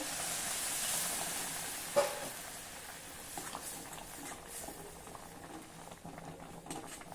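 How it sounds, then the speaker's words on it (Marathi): Hot water hits a hot pan of sautéed radish leaves with a sharp hiss, settling into a soft, steady bubbling and steaming simmer, close and fairly quiet. "आता यामध्ये आवश्यकतेनुसार गरम पाणी घालूया"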